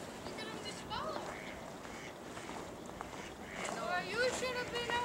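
Ducks quack in a few bright, scattered bursts at a winter feeding area, strongest near the end, over steady wind and outdoor background noise.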